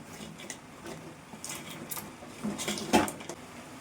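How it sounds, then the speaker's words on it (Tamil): A spoon stirs crab with turmeric and masala in a pan for crab gravy, making soft scrapes and light metallic clinks, then a sharper clatter near the end, with no voices. "இப்போ எல்லாத்தையுமே சேர்த்து நல்லா கலந்து விட்டுருவேன்"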